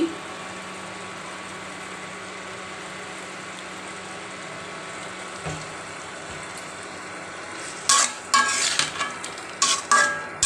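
A little ghee sizzles in a pan while pasta is being cooked, a quiet steady hiss under a faint hum, then loud scraping stir strokes break in near the end.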